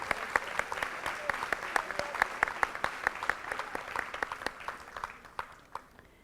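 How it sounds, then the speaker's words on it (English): An audience at a school board meeting applauds a fourth-grade student honoree, steady clapping from a modest crowd that holds at an even level for about six seconds before thinning out at the end. "Let's give him a round of applause."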